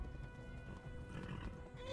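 A horse whinnies faintly in the video game Kingdom Come: Deliverance amid a busy, low rumbling background with soft hoof-like thuds, the neigh rising toward the end.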